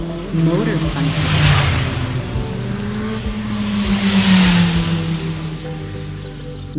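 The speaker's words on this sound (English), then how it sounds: "Motorcycle. Motorcycle." A motorcycle engine drones steadily and near, swelling twice as it revs and passes, its throttle rising and falling with no talk over it.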